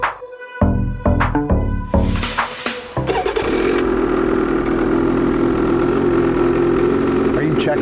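A 2023 Ski-Doo Renegade X-RS 850 snowmobile engine cranks in several stuttering bursts, then catches and settles into a steady, loud idle close by.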